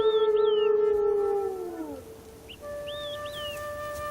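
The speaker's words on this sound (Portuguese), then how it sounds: "Seus uivos assumem um aspecto melancólico, de busca" Wild wolves howl in long, mournful, sliding tones, several voices overlapping and fading before another pair of howls rises, fairly close and clear with no talk.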